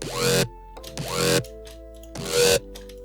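Three sustained buzzy saw-wave synth bass notes with a little sync, each roughly half a second long with a bright, raspy edge, separated by short gaps. No voices.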